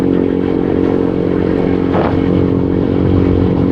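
Motorcycle on a long road trip from Manila to Mindanao, its engine droning steadily and loud throughout with wind rush, a brief clattering swell partway through.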